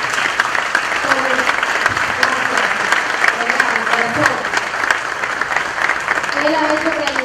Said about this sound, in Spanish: necesito un aplauso para él.